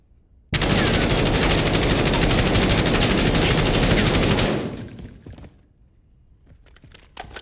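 A Kilo rifle fires in Call of Duty in one sustained full-auto burst lasting about four seconds, loud and rapid and continuous, then fading out into quieter game ambience with a few faint clicks.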